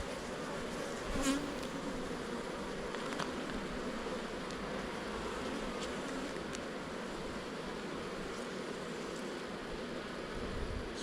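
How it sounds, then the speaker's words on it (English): Honeybees humming steadily inside an open hive during a spring inspection, a soft, even, faint buzz with no voices present. "See lots of bees with their heads in cells, putting nectar in."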